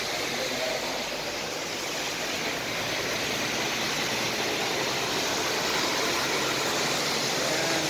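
Steady, dense roar of heavy rain pouring down in Bahrain with rushing floodwater collecting on the street, loud and continuous throughout, with a faint low rumble underneath.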